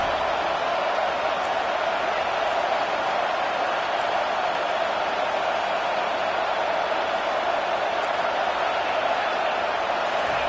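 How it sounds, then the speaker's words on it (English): A packed stadium crowd in the NCAA 25 college football video game roars in a dense, unbroken wall of noise, loud and sustained throughout with no break. "Listen to this crowd just shaking the girders of this place, trying to help their defense."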